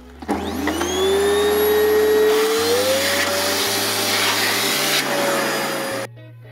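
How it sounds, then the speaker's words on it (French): Vacuum cleaner fitted with a small nozzle cleaning car floor mats: the motor whines up loudly, holds a steady roar with shifting pitch as the nozzle moves, then cuts off abruptly. "vous branchez votre aspirateur, vous prenez un petit embout"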